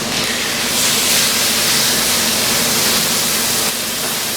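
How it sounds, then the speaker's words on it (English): A steak searing in a hot, smoky pan, giving off a loud, steady sizzle like a broad hiss that holds without a break for a few seconds, with no talking over it. "And now I'm going to flip my steak. You see that nice little sear in the pan."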